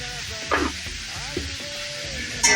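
Country chicken pieces frying with salt and turmeric give a steady close sizzle, broken by a few scraping stirs of a spoon against the pan.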